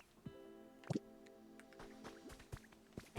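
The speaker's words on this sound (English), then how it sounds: "I hear sparklies in the water." Sparkling water splashes in the video game Pokemon Pokopia, a string of soft drips and plops with a brief bright squishy splash near the start over a faint tonal backdrop.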